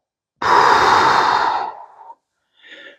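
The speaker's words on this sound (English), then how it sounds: "Exhale at the top." A single long, forceful exhale at the top of a clamshell exercise rep, loud and close, trailing off into a softer breath, followed by a faint short breath.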